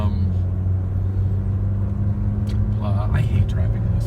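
Car driving through a town at night, a steady low engine and road rumble filling the cabin with faint passing traffic noise outside, and no talking.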